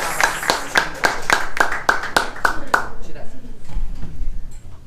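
A church congregation claps in a Portuguese-language service, giving about nine crisp, evenly timed hand claps that stop abruptly, followed by a low murmur of voices.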